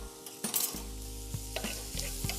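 Diced sausage sizzles steadily in a pan for shrimp and sausage jambalaya grits while a utensil stirs it, with several scraping knocks and bursts of frying louder in the foreground.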